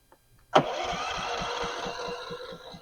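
A budget generator under $1000, started cold for RV boondocking, catches with a sharp pull and settles into a steady, loud running drone with a faint regular thump beneath, close by and with no talking over it.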